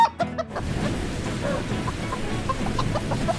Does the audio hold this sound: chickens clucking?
yes